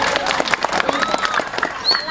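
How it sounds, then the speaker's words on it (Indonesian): Spectators at a calonarang performance in a Balinese temple give a round of applause, busy clapping with crowd chatter and voices running over it, fairly close. "Tepuk tangan lap."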